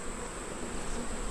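Honey bees buzz in a steady, dense drone around an open hive during an inspection, a continuous close hum with no talking.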